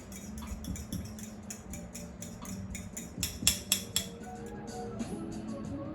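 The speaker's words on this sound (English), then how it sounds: "I'll make sure I get the salt and pepper in the dressing, and then an extra little whisk to combine" A whisk taps and clicks rapidly against a bowl while blending salt and pepper into salad dressing, a run of light metallic strokes that grows louder in a few sharp bursts near the end.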